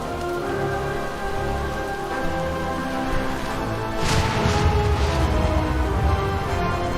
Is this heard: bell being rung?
no